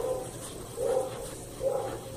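A pack of dogs barks in the distance, three faint, evenly spaced barks over a low room hum indoors.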